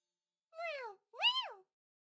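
Two drawn-out, rising-and-falling meows, close and clear with a short gap between them and silence around them, voiced by a person imitating a cat.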